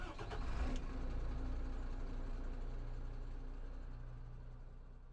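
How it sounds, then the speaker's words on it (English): A Husky 2G mine-detection vehicle's engine turns over with a brief burst, then settles into a steady, loud, low rumbling idle that continues to the end. "Start vehicle engine."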